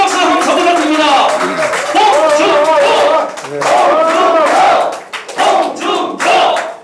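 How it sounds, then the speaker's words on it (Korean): A crowd at a political campaign visit in Andong shouts and cheers loudly in rhythmic bursts, with some clapping mixed into the chanting voices and a brief lull near the end. "힘찬 박수 감사 부탁드립니다"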